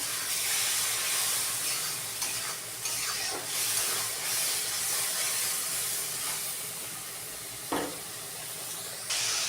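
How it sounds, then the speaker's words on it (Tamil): Onions, chilli powder and ginger-garlic paste sauté in a pan for egg curry with a loud, hissing, steamy sizzle. Scattered spoon scrapes and knocks sound throughout, and no one speaks. "இஞ்சி பூண்டு பச்சை வாசனை போகிற வரைக்கும் நல்லா வந்து வதங்கிக்கிறேன்"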